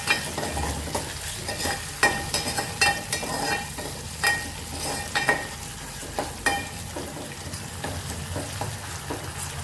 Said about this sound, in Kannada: ಟೊಮೆಟೊನ ಹುರಿರಿ ಚೆನ್ನಾಗಿ ಎಣ್ಣಾಗ